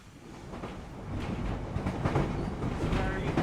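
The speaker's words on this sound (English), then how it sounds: "So we jumped back on the train at Smallbrook, went to Ryde St John's." Isle of Wight Island Line passenger train, one of the oldest in UK service, running near Smallbrook and Ryde St John's, with a steady rumble of wheels and rhythmic clicks on the rails, loud and close throughout.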